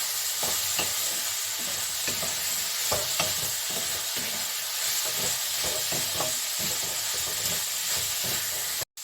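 Banana flower frying in a pan with turmeric and green chilies, a continuous loud sizzle and hiss broken by repeated scraping strokes of stirring, ending with an abrupt cutoff.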